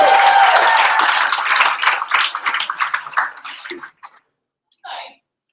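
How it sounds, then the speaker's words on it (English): A room full of people applauds a hackathon team, with dense clapping for about four seconds before it thins out and stops, followed by a brief faint sound near the end. "Big round of applause to team number 4."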